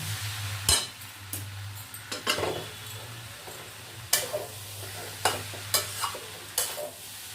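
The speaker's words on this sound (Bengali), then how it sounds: "এবারে আমি এটাকে নাড়িয়ে চাড়িয়ে নেব।" A spatula stirs fried fish through a Bengali banana flower curry in a sizzling pan, with scraping and clacking strokes at irregular intervals over a steady frying hiss and a low hum.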